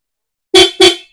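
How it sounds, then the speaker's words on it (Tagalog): Two loud, close blasts of a dual horn fitted to a Rusi Yuri Wavestyle motorcycle, each about a quarter second long with a short gap between them, and no other sound. "Ito na yung magiging resulta ng busina natin ha."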